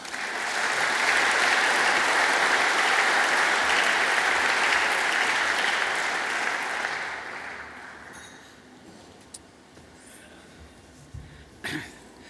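Loud, sustained applause from a conference audience greeting a CEO at a speaking event, a dense even clatter of many hands for about seven seconds before fading into scattered claps, coughs and quiet murmuring.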